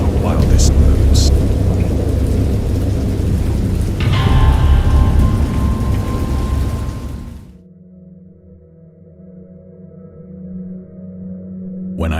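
Heavy rain pours steadily with low rumbling thunder for several seconds, then cuts off abruptly, leaving only a faint low hum, in a video game adaptation of H. P. Lovecraft's Dagon.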